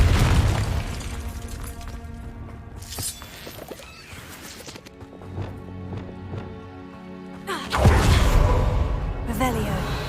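Booming fire-spell blasts and bursts in the Hogwarts Legacy video game, layered over a busy rumbling game soundscape with music, a heavy explosion swelling near the end, and a voice speaking over it.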